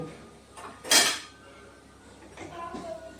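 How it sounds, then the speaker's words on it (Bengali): A wok used for boiling eggs is lifted off the stove with a sharp metallic clank near the start, followed by quieter scrapes and soft knocks of kitchen handling. "কড়াইটা নামিয়ে দিলাম।"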